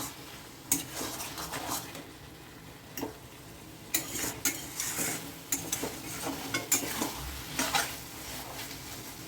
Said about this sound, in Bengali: এবার এটাকে ভালো করে নেড়ে চেড়ে সব জায়গায় মিশিয়ে দিচ্ছি